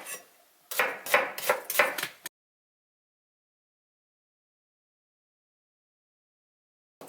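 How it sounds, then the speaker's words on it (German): A knife chopping onions finely on a board: a rapid burst of about six crisp, close taps over roughly two seconds, followed by silence. "Jetzt schneiden wir die Zwiebeln noch kleine."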